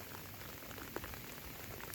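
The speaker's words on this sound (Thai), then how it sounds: "ฝนก็ยังบ่เศร้าอยู่" Steady rain falls over rural rice fields in Thailand, a faint, even hiss with no pauses.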